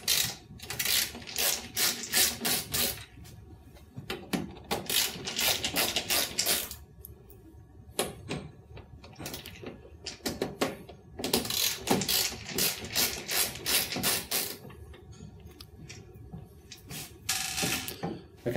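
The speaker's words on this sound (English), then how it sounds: "once the three screws are undone and taken out" Screws are undone on the back cover of an MXC250/MXC300 Neo multifunction printer with a screwdriver, in rapid clicking ratchet-like bursts that come in several runs separated by short pauses, with no talking.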